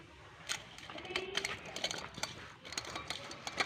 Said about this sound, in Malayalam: നമുക്കിത് ഉപ്പും മുളകും ഇട്ട് മിക്സ് ചെയ്യാം